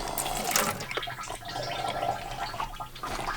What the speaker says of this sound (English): We have our faucet, and the best thing about this is that we have an electric pump